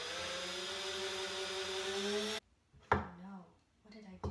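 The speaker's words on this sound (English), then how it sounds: "The drill bit got stuck in the thing" A power drill whines steadily for about two seconds, then cuts out abruptly as the bit gets stuck, followed by a few moments of a person talking.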